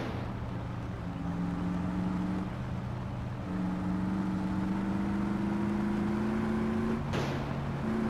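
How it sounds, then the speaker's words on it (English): In the game My Summer Car, an old BMW E30 engine turns over and settles into a steady hum. Its droning tone then climbs slowly in pitch as the car pulls away and drives, loud and continuous throughout. "Now let me try to start this car. Hear this vehicle out."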